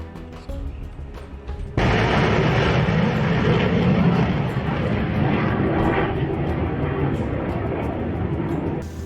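A loud, sustained roar of Indian Army Rudra helicopters and military aircraft at a Pokhran exercise swells in suddenly after a quieter start, then holds heavy and continuous as if from fairly close.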